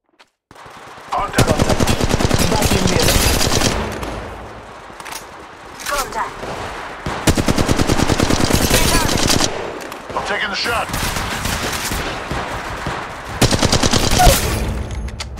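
Rapid automatic gunfire in the mobile battle royale game Apex Legends Mobile, loud close bursts repeating across the clip with brief gaps between volleys and game voice callouts mixed in.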